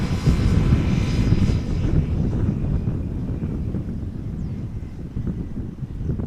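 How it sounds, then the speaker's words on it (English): A KLM Airbus A330-300 arriving from Bonaire on approach to Amsterdam Schiphol in gusty crosswind, its engines a loud, steady low roar buffeted by wind noise on the microphone, fading slightly as it passes. "This is KLM Flight 767 that we're seeing approach."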